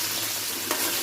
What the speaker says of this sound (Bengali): তেল দিয়ে দিলাম কড়াইয়ে, পেঁয়াজ রসুন দিয়ে দিলাম, ব্রাউন কালার করে ভেজে নিব